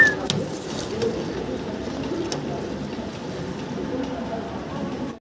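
A big, modern fancy pigeon pair at a farm coos softly in a low, continuous murmur, close and even, with a busy loft background and no clear speech.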